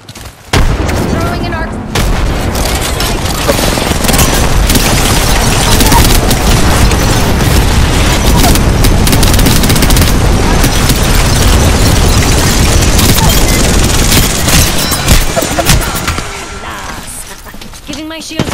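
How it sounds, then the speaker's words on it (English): Frag grenade explosions and rapid gunfire fill an Apex Legends match, a dense, loud, continuous barrage of booms and shots lasting most of the stretch before cutting off near the end. "Frag out. Frag out. Throwing an arc."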